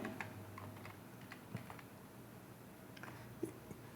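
Soft keystrokes on a computer keyboard tap out a Python command in a quiet room, light irregular clicks with a couple of slightly firmer presses.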